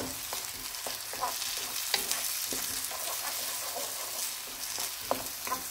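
Semolina halwa roasting in butter and oil in a pan, a soft steady sizzle broken by repeated spoon scrapes and taps as it is stirred, close and fairly quiet with no voices.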